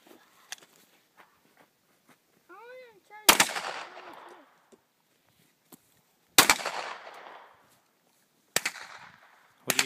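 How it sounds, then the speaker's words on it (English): Three sharp, loud gunshots from a Springfield XD 9mm pistol fired at beer bottles in an outdoor pit beside a farm, spaced a few seconds apart, each with a short ringing tail, with faint footsteps and a brief whistle between. "I'm shooting the old Springfield 9mm"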